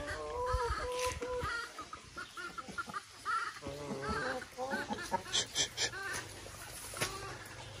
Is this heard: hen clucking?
yes